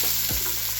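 Peas and carrots stirred in a hot pan for a vegetable kurma, a steady sizzle of frying with a brief scrape of the spoon partway through, close and continuous.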